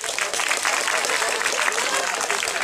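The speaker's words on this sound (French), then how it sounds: "Merci Thierry, on vous applaudit s'il vous plaît." A crowd applauding at an outdoor medieval festival in Tourrettes-Levens, dense steady clapping filling the whole moment without pause.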